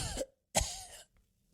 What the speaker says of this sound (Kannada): ಥಂಡಿ ಗಾಳಿಗೆ ಕೆಮ್ಮು ಶುರುವಾಯಿತು